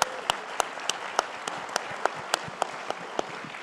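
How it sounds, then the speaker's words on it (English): Faint, sparse applause from an audience at a speaking event: distinct claps land at an even pace of about three per second, each one sharp and separate, with little else around them. "give her an incredible round of applause for that accomplishment"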